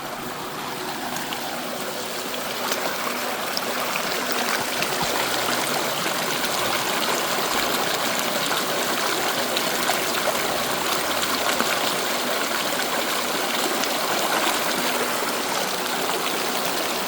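Steady rushing and trickling of water flowing through a gold panning sluice at a public panning site in Fairplay, Colorado, continuous and fairly close with no talk.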